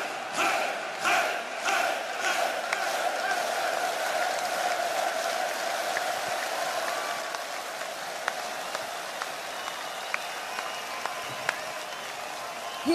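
A large festival crowd at a Metallica show at Download Germany 2022 cheers and applauds in a steady, dense roar for the whole stretch, with a sustained tone running underneath and a few sharp claps or whistles popping out near the end.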